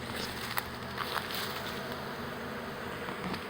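A swarm of honey bees buzzing around a hive, a steady, faint drone with occasional louder passes of individual bees close by.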